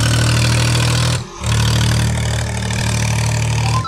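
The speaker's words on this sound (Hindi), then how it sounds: "ट्रैक्टर ज़्यादा दब के चल रहा है" Swaraj 834 XM tractor engine labouring as it works through soft, sunken farm mud, a loud, close, steady diesel drone with a brief dip in power partway through before the heavy note returns.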